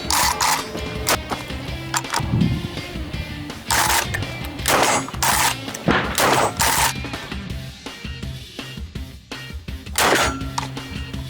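A shotgun loaded with mini shells fires a series of sharp, loud reports at uneven intervals, each followed by metallic clanks of cycling and handling between shots.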